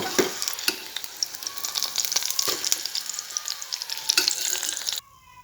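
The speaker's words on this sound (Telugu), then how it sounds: "సో పచ్చిమిర్చి వేసి వేపుదాం." Green chilies fry in hot oil in a kadai, a steady close sizzle broken by sharp clicks and scrapes of stirring, then cut off abruptly near the end.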